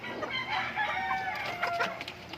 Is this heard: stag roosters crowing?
yes